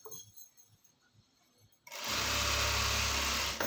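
After a quiet stretch with faint handling noises, a sewing machine starts up and runs loud and steady, sewing a straight seam on a pair of trousers.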